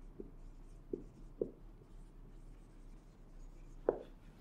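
Chalk or marker writing sentences on a classroom board during a spoken English lesson, a few soft scattered taps and strokes, faint and close, with no talk.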